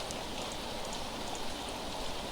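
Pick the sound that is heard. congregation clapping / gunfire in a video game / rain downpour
rain downpour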